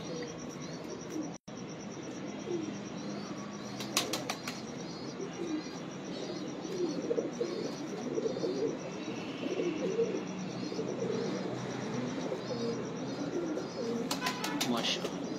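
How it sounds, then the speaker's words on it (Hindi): Pigeons in a loft: soft, steady cooing with brief bursts of flapping wings, heard near and moderately loud while people talk in the background throughout. "टैडी कबूतर है।"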